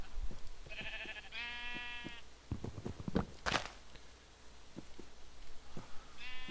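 Blocky sheep bleat in the video game Minecraft, several wavering calls near and clear with soft footsteps and clicks between them, no talking.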